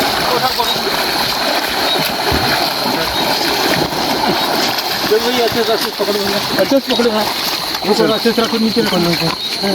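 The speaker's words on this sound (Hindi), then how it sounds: "देख रहे हो नदी बह रही है" River water rushes and splashes steadily as people wade across a flowing river in Balaghat, with voices talking throughout over the continuous watery roar.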